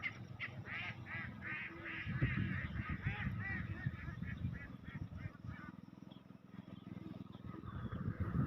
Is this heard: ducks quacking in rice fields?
yes